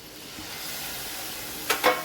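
Spiced water hits hot oil in a pan while a Marathi matki dal aamti is being cooked, with a steady close sizzle that flares into two sharp, loud bursts near the end.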